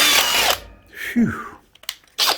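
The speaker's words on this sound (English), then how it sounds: "It's stressful, isn't it, drilling holes?" Power drill whirs loudly for half a second while drilling holes in an off-road trailer, then winds down. Short bursts of handling noise and another brief whir follow.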